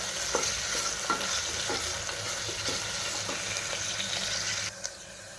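Onions frying in oil inside a pressure cooker, a steady sizzle broken by repeated scraping strokes of a spatula stirring, dropping slightly quieter near the end.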